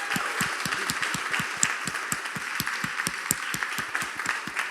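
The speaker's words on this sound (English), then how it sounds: "can we all give a huge hand of applause for the Valkyries?" Audience applause for the Valkyries at a live event, steady crowd clapping with dense individual claps, sustained at moderate loudness throughout without voices.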